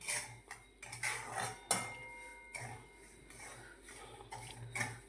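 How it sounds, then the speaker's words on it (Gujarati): Semolina flour is roasted in a pan over a low gas flame, with soft, irregular clinks and scrapes of a spoon against the metal pan, quiet and close. "ધીમા ગેસે જ શેકીશું લોટને."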